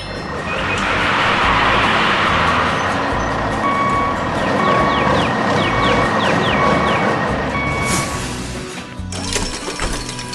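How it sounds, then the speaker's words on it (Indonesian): A 3D animated dump truck raises its bed and tips a heavy load onto the ground, with steady reversing beeps over a low engine rumble, then a rough crashing spill near the end. "bak truk mulai terangkat perlahan. Beban berat itu pun tumpah ke tanah dengan suara gemuruh"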